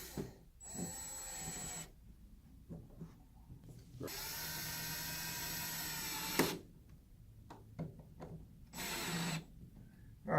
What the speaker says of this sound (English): we're going to want to go ahead and screw these down